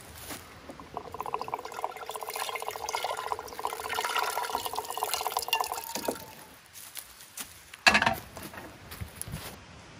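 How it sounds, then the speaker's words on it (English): Water pours and drips while a food container is rinsed out outdoors on a camping trip, a steady trickle for several seconds, then a sharp splash and scattered drips. "you just want to rinse that out right away"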